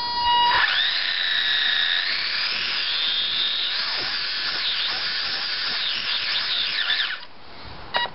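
An HPI E10 electric RC car on a street gives off a loud, sustained high-pitched motor whine for about seven seconds, its pitch rising and dipping as the throttle varies, then cutting off abruptly and leaving a brief faint clatter.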